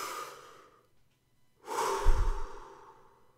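A single deep breath, drawn in and then let out in a long, fairly close exhale, with a short silent pause before it and no talking.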